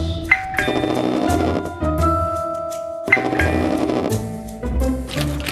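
A doorbell plays a chiming melody twice in a row, loud and close, with sustained ringing tones and background clatter.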